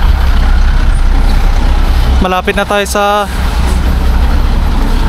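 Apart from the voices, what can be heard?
road traffic with trucks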